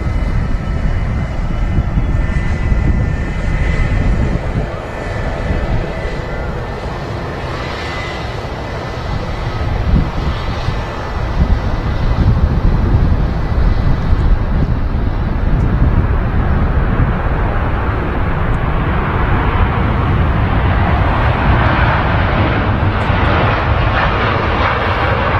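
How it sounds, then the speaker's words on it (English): A Virgin Atlantic airliner rolling for takeoff at Manchester Airport, its jet engines roaring loudly and steadily for the whole stretch, the rumble swelling and the pitch rising as the aircraft gathers speed, with no talk. "Virgin Atlantic now rolling."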